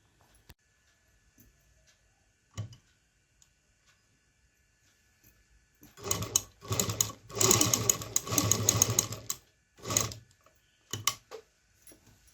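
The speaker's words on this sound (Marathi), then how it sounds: "जळालेलं होतं त्याच शेपमध्ये मी इथे शिलाई करून घेते." A sewing machine stitching a repair over burnt clothing fabric, running in close, loud whirring bursts of rapid needle clatter after quieter handling clicks, with short pauses between runs.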